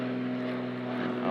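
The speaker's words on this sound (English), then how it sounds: "sorry about the plane overhead" An airplane passes overhead outdoors on a warm day, a steady droning engine hum that fills the whole moment, fairly loud and continuous.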